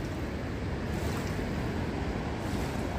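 Rushing water of the Isonzo river, a steady broadband roar filling the whole clip, close and continuous with no voices.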